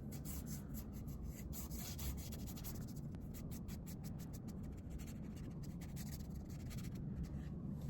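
Temu watercolor pencil rubbing lightly across a paper block while blending, a steady close soft scratchy rasp that runs unbroken for the whole stretch with no talk.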